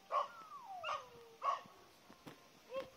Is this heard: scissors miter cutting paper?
no